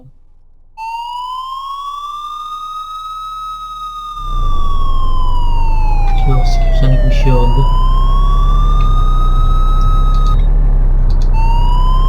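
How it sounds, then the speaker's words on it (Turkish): An ambulance siren in the Sim Emergency Driver video game wails in rising and falling sweeps, cutting off and restarting, loud over a constant engine drone and a low rumble, while someone talks briefly. "Siren açıp kapatıyor."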